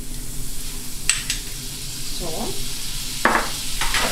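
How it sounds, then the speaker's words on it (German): Butter melts and sizzles in a pan with a steady low hiss, broken by a few sharp utensil clinks and scrapes against the pan; a voice speaks briefly. "Und jetzt werden wir uns gleich ein bisschen am Butter in der Pfanne schmelzen."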